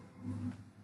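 A tiger roaring, one short low growling roar swelling and fading in under a second, fairly faint.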